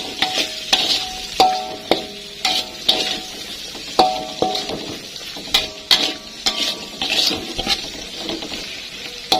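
Spatula stirring salted squid and petai beans in a frying pan, steady sizzling with repeated scraping and clinking strokes against the pan at an uneven rhythm.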